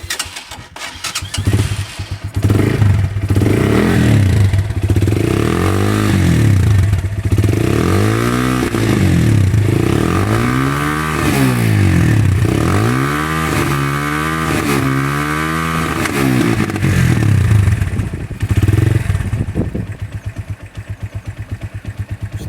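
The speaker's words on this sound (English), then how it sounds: "I'll just start it up for you now." A Lexmoto XTRS125 motorcycle with a loud exhaust starts from cold and idles, its engine catching after a crank and then blipped through repeated rising and falling revs before settling back, loud and close with no talking.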